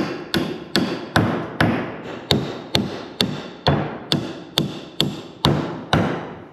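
Steady hammer blows on nails during a farm repair ring out one after another, about two per second, loud and close with a metallic strike and a short decay.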